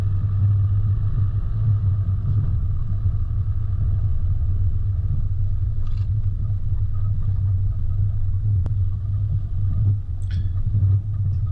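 A car driving over an eroded dirt track with watercourse crossings, giving a loud, steady engine rumble that holds for the whole stretch, with faint bumps and rattles and no voices.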